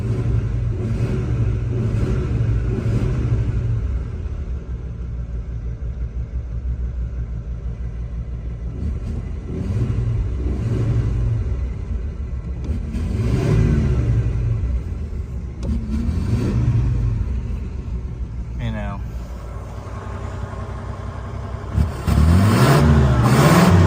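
A 1984 Ford LTD wagon engine with an unrebuilt carburetor runs up close with a loud, continuous rumble, swelling in several slow revs and easing back, ending in a brief rougher burst.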